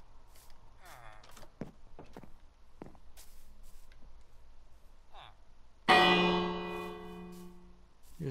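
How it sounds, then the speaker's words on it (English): A bell rung in the blocky survival game Minecraft, one loud struck clang that rings out and slowly decays, preceded by quieter footsteps and shuffling sounds. "rang the bell because I felt like it"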